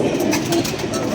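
Pigeons coo softly and briefly, close by at a pigeon show. The coos sit under low background noise.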